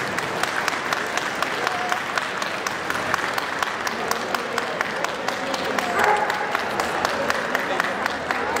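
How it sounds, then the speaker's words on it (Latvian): Steady, sustained audience applause fills a hall at a PetExpo breed demonstration of Bernese mountain dogs and their handlers, with a presenter's voice over the clapping. "Un ar aplausiem sakām paldies Bernes ganu suņiem un saimniekiem."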